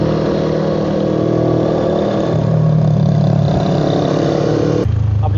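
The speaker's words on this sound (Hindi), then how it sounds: "जैसे चौथे गियर में इसमें भी एक्सेलेटर दूंगा तो बाइक" A Suzuki Inazuma 250 motorcycle accelerates in fourth gear on the road, its engine a loud, steady drone with a slight shift in pitch partway through.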